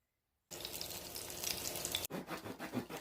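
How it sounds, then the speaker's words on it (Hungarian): Hot dog sausages, scored and laid in a hot pan, sizzle and crackle loudly and steadily for about a second and a half, then a sharper burst of spitting fat follows after a brief break, with no talking. "A virsliket bevágdosom és forró serpenyőbe mind a 2 oldalát megsütöm."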